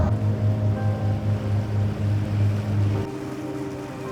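A sailboat's new engine runs in reverse on the water, a steady low throbbing drone with a regular pulse that drops to a quieter idle near the end, heard close up with no talking.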